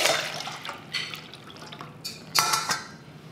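Cooked noodles for a Chinese stir fry are drained in a sieve, with water splashing and dripping in short bursts and a couple of sharper metallic clatters from the sieve, close by and with no voices.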